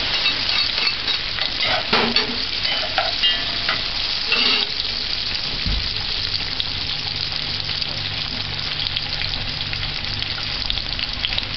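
Food frying in about two tablespoons of oil in a pan while callaloo is cooked, a steady close sizzle with stirring scrapes throughout and no talking.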